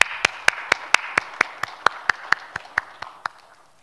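Sharp, evenly spaced claps at a church's first worship service of the 2021 New Year, about fifteen crisp beats in a steady quick rhythm that gradually soften toward the end, with no talking over them.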